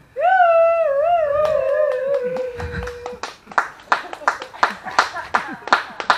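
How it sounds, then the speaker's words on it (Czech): An audience claps in a steady rhythm at a live concert, starting after a long sung note and continuing as the beat goes on. "Zatleskej taky, ať je nás víc."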